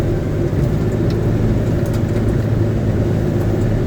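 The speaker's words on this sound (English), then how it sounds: "Tires starting to spin. I'm at my load limit." Vehicle tires spinning under a heavy load at the limit of traction, giving a loud, continuous engine drone and rumble with no break, close to the listener.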